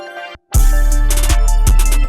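An FL Studio beat has its drums and melody dropped out by a filter cut automation, then snapped back in at full volume, with punchy kicks and bright layered hits returning after a brief dip.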